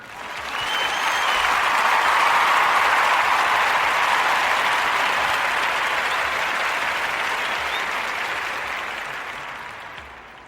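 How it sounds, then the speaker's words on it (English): An audience gives a sustained round of applause, a dense wash of clapping that swells over the first couple of seconds, holds steady and then gradually fades out near the end, with no talking over it. "This is another round of applause"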